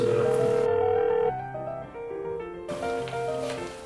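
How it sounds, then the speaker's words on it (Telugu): A telephone ringing tone after a home number is dialled: a steady electronic tone sounds at the start, followed by shifting tonal layers, heard over the line with no one talking. "రింగ్ అవుతుంది"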